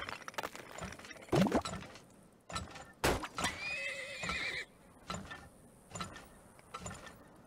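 A horse in the video game Turmoil lets out a loud whinny, followed by scattered hoof clip-clops and mechanical clanks in short bursts, heard close and without talk.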